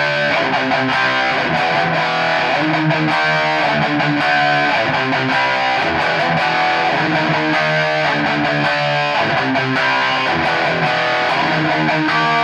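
Electric guitar chords played loud and continuous through a reverb delay pedal, notes ringing and trailing into each other.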